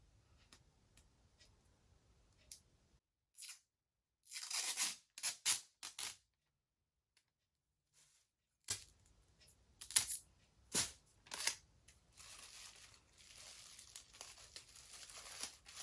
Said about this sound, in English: I will go ahead and put a piece of tape around it